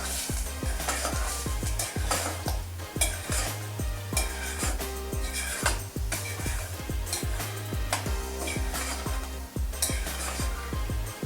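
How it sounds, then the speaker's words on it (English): A spoon stirs yogurt into a palak paneer spinach gravy in a pan, giving steady repeated scraping and clinking strokes over a continuous soft sizzle, close and fairly loud, with no talking. "You just keep moving your spoon until you feel that yogurt is melt down in the gravy."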